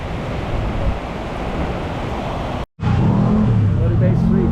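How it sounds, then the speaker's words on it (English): Steady rain falls on a city street in Ermita, Manila, a dense broadband hiss with traffic rumbling underneath, briefly cutting out before resuming loud and close. "It's raining."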